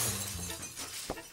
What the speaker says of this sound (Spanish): El ladrillo fue arrojado por la ventana de Gepetto